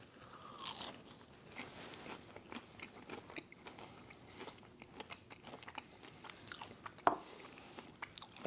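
Crunchy oven-baked bacon being bitten and chewed up close, a series of faint crisp crunches and soft chewing sounds, quiet and alone.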